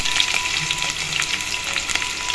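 Onions frying in hot oil with cloves for a vegetable pulao, a steady close crackling sizzle with brief spitting pops throughout, no voices.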